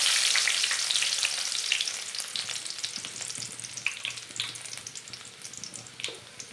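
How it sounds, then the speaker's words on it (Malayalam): Finely chopped ginger and garlic hitting hot oil in a pan, a loud close sizzle at first that settles into steady frying crackle with light stirring, no talk. "നമ്മുടെ എണ്ണ നന്നായിട്ട് ചൂടായിട്ട് കിടക്കുകയാണ്. അതിനകത്തേക്ക് നമുക്ക് ഇഞ്ചി, വെളുത്തുള്ളി ചെറുതായിട്ട് കൊത്തി എണ്ണ വെച്ച് കൊടുക്കാം."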